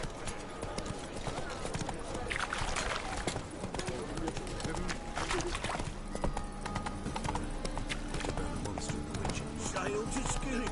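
Hooves of Roach, the horse in The Witcher 3, clip-clop in a steady rhythm under ongoing game speech and ambient music, close and continuous throughout.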